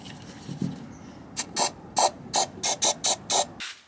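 Short bursts of Waxoyl underbody seal hiss from a spray can beneath a Mercedes Sprinter van, about nine close, sharp sprays in a quickening rhythm after a few faint knocks.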